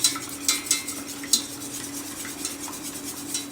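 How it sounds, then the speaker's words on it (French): Two eggs beaten in a bowl, giving light irregular clinks and scrapes of utensil against the dish over a steady low hum, with no talking. "Donc je mélange déjà mes 2 œufs"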